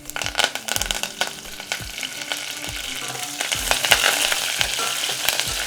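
Mustard seeds, cumin, chillies, garlic and curry leaves frying in hot oil for mint rasam: a loud, steady sizzle crackling with sharp pops, and scraping stirs at irregular intervals.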